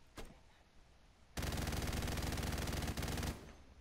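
Rapid automatic gunfire in Call of Duty: Modern Warfare, a single near, loud burst of about two seconds after a brief earlier shot, with no talk.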